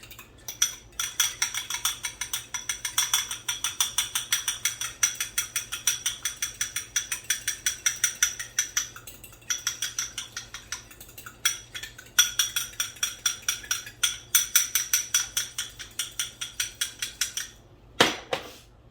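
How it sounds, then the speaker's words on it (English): A whisk beats a wet mixture in a bowl for gluten-free vegan bread, a quick, steady run of metallic ticks and clinks against the bowl that pauses briefly a few times, close and fairly loud, with no talking. "so we're just going to whisk it kind of like an egg."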